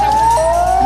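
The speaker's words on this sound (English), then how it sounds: "Blare of the tsunami sirens." Tsunami warning sirens hold a loud, steady, high, droning wail, dipping slightly in pitch partway through, after an earthquake.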